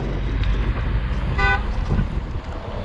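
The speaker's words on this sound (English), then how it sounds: "People just like to honk their horn." A single short car horn toot rings out over steady road and engine noise, fairly close and clear.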